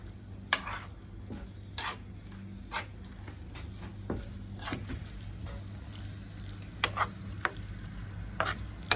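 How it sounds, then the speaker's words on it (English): Spaghetti Bolognese sauce with chunky vegetables simmers in a pan with a soft, steady sizzle, broken by intermittent scrapes and clicks of stirring, fairly quiet and close. "whilst it's simmering, sometimes it might dry out a little bit"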